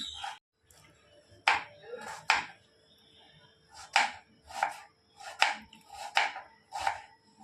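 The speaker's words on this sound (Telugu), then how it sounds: "సన్నగా తరుక్కోవాలి ఉల్లిపాయలు. మనం బిర్యానీలో ఎలా వేస్తాం అలా తరగాలి," A knife chops onions into thin lengthwise slices on a board. About ten crisp strikes land in an uneven rhythm, close and fairly clear over a quiet background.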